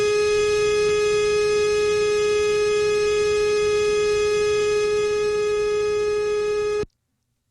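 A steady, loud electronic tone held unbroken for several seconds, then cut off abruptly into silence.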